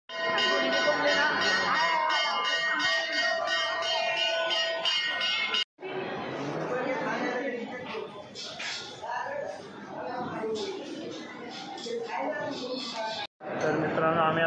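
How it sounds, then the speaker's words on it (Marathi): Temple bells ringing during aarti, a bright metallic clanging mixed into a busy crowd, with people talking throughout over the ringing. "बहुतेक तिथं आरती चालू झाली होती. घंटा वाजता."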